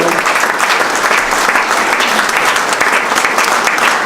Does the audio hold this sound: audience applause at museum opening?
yes